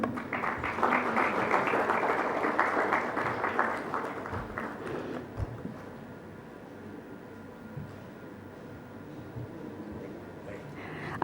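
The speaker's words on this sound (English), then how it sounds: "A round of applause, people." An audience at a technology summit applauds a minister, a broad wash of clapping that is strongest for the first five seconds and then thins out into quiet room noise.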